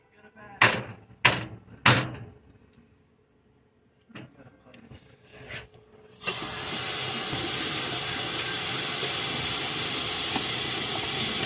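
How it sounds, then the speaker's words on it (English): A tap is switched on and runs in a loud, steady rush to rinse a sieve from hot sauce making in a kitchen sink, with a few knocks and brief speech before the flow starts. "I'm going to rinse that sieve out a little bit."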